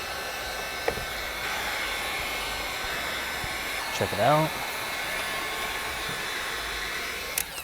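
A heat gun blows a steady airy roar while shrinking window tint film on a 2012 Hyundai Sonata's glass. The whirring hum runs throughout under a brief spoken remark and a few small clicks.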